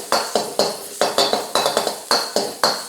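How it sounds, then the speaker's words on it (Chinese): Shredded ginger stir-fried in a little oil over low heat for Teochew-style steamed fish, with quick rhythmic spatula strokes scraping and clinking against the pan over a light sizzle. "小火下一点点的油，一点点就好，不要很多的不要很多的。 然后先下这个姜丝"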